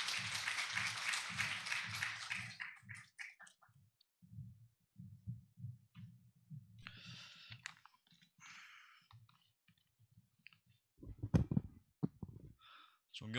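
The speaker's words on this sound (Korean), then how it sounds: "큰 박수로 환영해 주시면 감사하겠습니다" Applause at the opening ceremony of a Korean mental health social work academic conference, welcoming the president of the Korean Academy of Social Welfare to the podium; a dense burst of clapping for about two seconds, then fading into sparse claps and a low murmur.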